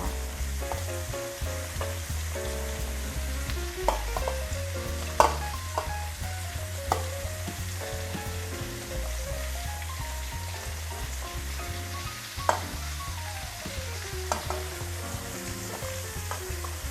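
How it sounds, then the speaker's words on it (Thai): Tofu stir-fried in a pan sizzles loudly and continuously, with clinks and scrapes of a utensil stirring through the crackling oil and no one talking. "เราจะผัดเต้าหู้ด้วยนะคะ"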